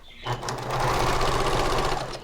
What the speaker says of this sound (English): we are going to place them together along one of the long sides and sew them